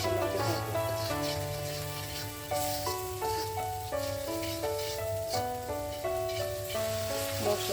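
Masala spice paste for a country chicken curry sizzles in oil in a pan, a steady crackling hiss running continuously beneath a louder melodic instrumental tune.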